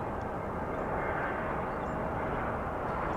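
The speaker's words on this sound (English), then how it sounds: "Here's American Flight 2249 from Phoenix." An American Airlines flight from Phoenix at Dallas/Fort Worth airport makes a loud, steady, broadband jet roar that holds without a break, heard from near the runway.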